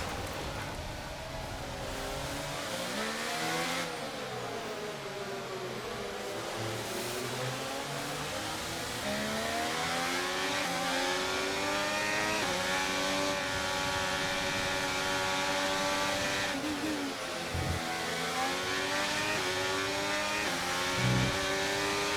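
Formula 1 race car engines in the video game F1 23 at Imola: a continuous loud, high engine whine that rises and falls through gear changes and throttle lifts across the whole stretch, with no talk.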